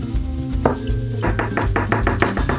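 A knife chops an onion very finely on a board, giving rapid, evenly spaced close taps that speed into a steady rhythm, with no talking.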